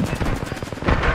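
Rapid automatic gunfire in Apex Legends, a fast rattling string of shots with a heavier burst near the end, loud and close.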